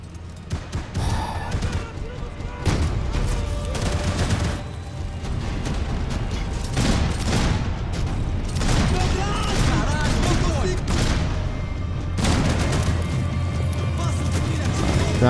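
Rapid dual-pistol gunfire in the Max Payne 3 game, dense bursts of shots and crashes running continuously and loud throughout, with brief spoken remarks mixed in.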